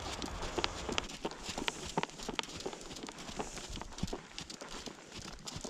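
A horse circling on a lunge line, hooves thudding in a quick irregular rhythm of soft footfalls against a rustling, scuffing ground noise, moderately near and steady throughout.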